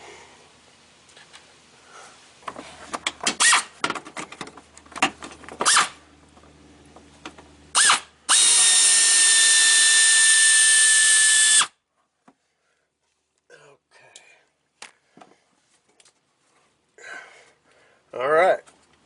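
A power drill whirs steadily for about three seconds while pulling a bolt from the headlight of a 2011 second-generation Toyota Tacoma, with scattered tool clatter and handling noises before and after, and a person talking briefly nearby.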